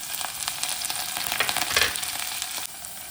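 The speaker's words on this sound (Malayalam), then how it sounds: "ഇതിലേക്ക് ഇഞ്ചി രണ്ട് കഷ്ണം ഇഞ്ചി ചെറുതാക്കി അരിഞ്ഞത് ഇട്ടെടുത്തിട്ടുണ്ട് പിന്നെ അതുപോലെ മൂന്ന് പച്ചമുളകും ചെറുതാക്കി അരിഞ്ഞത് ഇട്ടെടുത്തിട്ടുണ്ട്" Chopped ginger and sliced green chillies frying in hot oil for a Kerala-style garlic pickle, a loud, close, continuous sizzle that swells briefly before easing, with no talking.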